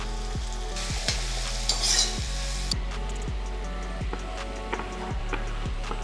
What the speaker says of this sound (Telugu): ఇది ఇట్లా వేగుతుంటుంది.